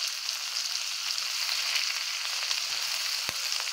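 Turmeric and Kashmiri chili powder fry in a pan with a soft, even sizzle, broken by a couple of sharp utensil knocks near the end, and no talking.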